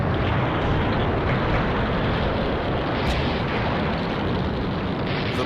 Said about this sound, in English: The blast